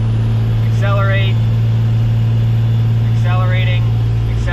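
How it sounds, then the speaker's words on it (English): Hot-shot pickup truck engine held at full throttle in fifth gear while losing fuel pressure, a loud steady low drone inside the cab with faint rising whines. "I'm holding foot to the floor in fifth, lose fuel pressure, accelerate,"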